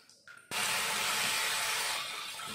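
Minced beef for martabak filling fries in a pan with a loud, steady, broadband sizzle that bursts in suddenly and holds nearly unchanged, easing slightly toward the end, with no voices.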